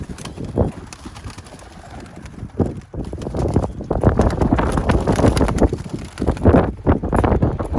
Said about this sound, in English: It's a lot of windy.